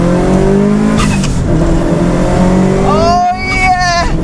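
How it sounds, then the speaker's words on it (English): A Subaru Impreza WRX with a 2-litre boxer engine making 370 bhp revs loudly, then its turbo dump valve lets out a sharp whooshing chatter near the end, close and very loud. "the dump valve in this car, it has got to be one of the loudest I've ever heard"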